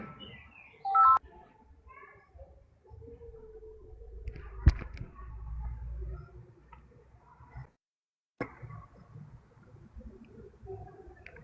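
Phone line tones cut into an ongoing call: short beeping tones near the start, then muffled clicks and line noise, a sharp click midway, a brief dead silence, and faint murmuring afterward.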